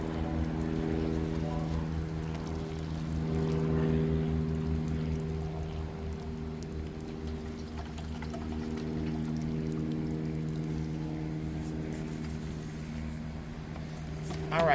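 Worm casting compost tea poured onto sugar cane in an urban garden, a soft continuous pouring splash under a steady low motor-like hum, moderately quiet throughout.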